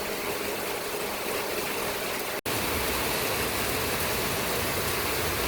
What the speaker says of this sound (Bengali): কি পরিমাণে বৃষ্টি হচ্ছে দেখতে পাচ্ছ